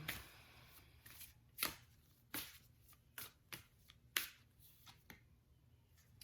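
Tarot cards being shuffled by hand, a series of soft, close riffling and tapping bursts in an irregular rhythm, quiet and alone with no talk.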